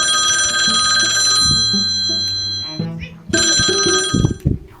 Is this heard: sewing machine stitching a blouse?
no